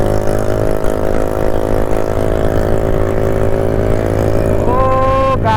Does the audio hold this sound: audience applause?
no